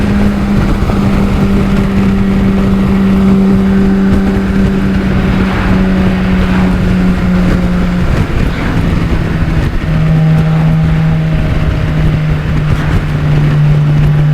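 A BMW K1600B touring motorcycle accelerating hard, its exhaust a loud, steady droning roar with rising engine pitch, a brief dip around a gear shift, then climbing again, heard close and continuous with no talk.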